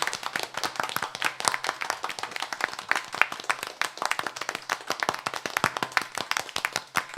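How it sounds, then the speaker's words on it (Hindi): Audience applause at a live concert in 2022: a dense, steady crowd of clapping hands with rapid overlapping claps that last the whole stretch at an even, moderate loudness. "और तालियां वाकई नहीं रुकनी चाहिए भाई"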